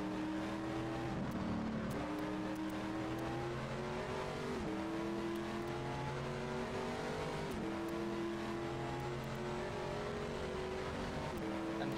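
A race car engine in the Automobilista sim racing game drones steadily throughout while driving, with repeated rising pitch sweeps as it revs through the gears. There is no talking.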